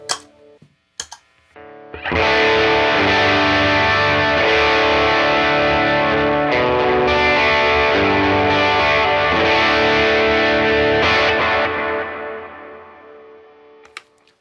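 Distorted electric guitar played through the Iron Horse amp simulator plugin with delay and reverb, a sustained driven chord passage after a couple of brief plucks, loud and close, ringing out at the end.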